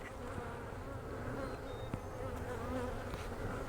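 Honeybees buzz steadily at a hive fitted with a sugar feeder, a dense continuous drone close by with no talking.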